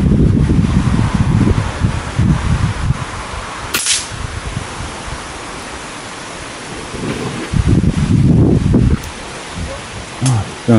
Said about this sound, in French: c'est le vent, c'est terrible.